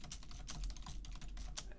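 Fingers type on a computer keyboard in quick, irregular bursts of faint clicking keystrokes, quiet and close, with no talking.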